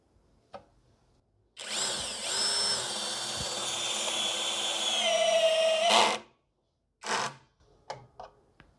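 Hanabi 16V cordless screwdriver drill running at increased torque, a loud continuous whine lasting about four and a half seconds with shifting pitch, then brief shorter bursts and clicks afterward, close to the microphone.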